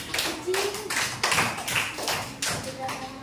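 Primary school class clapping for a classmate, a scattered burst of children's hand claps and taps in uneven clusters, close and roomy, with a voice talking over them.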